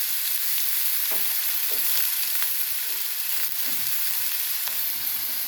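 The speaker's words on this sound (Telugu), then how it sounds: "ఇప్పుడు ఈ చికెన్ అంతా వేసేసుకున్నాం ఫ్రెండ్స్." Chicken fries in ghee with a steady, bright sizzle, broken by a few soft knocks and scrapes of stirring, and no voices.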